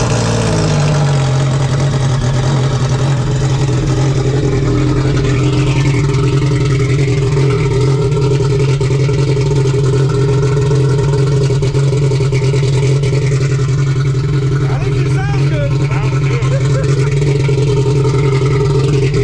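A Sea-Doo RXP-X stage 3+ jet ski engine at a lake runs loud and steady close by, a constant low droning idle that barely changes throughout.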